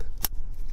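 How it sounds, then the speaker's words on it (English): A spark plug lead connector on a Toyota Previa snapping into place, heard as a single sharp, short click, close and clear against a quiet background. "You should hear a click"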